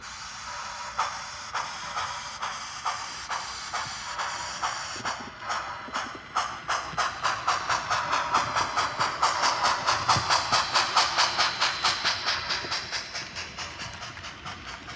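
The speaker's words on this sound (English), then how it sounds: "The train goes by, alright?" A small model Pacific Fruit Express train clatters past with rapid rhythmic clicking of wheels on track joints, growing louder toward the middle and then easing off; no talking.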